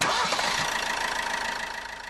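An Opel Corsa's 1.3 CDTI EcoFlex diesel engine starts with a sharp initial burst, then settles into a steady, slightly pulsing idle heard close up.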